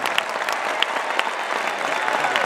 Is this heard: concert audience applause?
yes